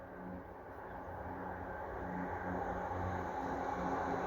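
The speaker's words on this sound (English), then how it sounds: "Pause for the train." A train passing near a South Croydon allotment: a steady, broad rumble with a low mechanical hum that swells gradually louder, no voices.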